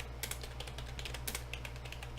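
Rapid, uneven keystrokes on a computer keyboard while code is typed in Dev C++, close and fairly busy, with a steady low electrical hum underneath and no voices.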